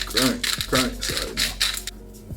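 Old-school black pepper grinder cranked by hand, about five rhythmic grinding rasps with creaky ratcheting twists between them, close and clear, with someone speaking over the first few turns.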